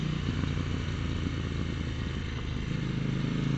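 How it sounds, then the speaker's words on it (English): A KTM 790 Duke motorcycle's exhaust rumbles loud and close with a steady engine drone, scattered crackles and pops running through it, no voices. "Hopefully you can hear that pop and cackle of the exhaust"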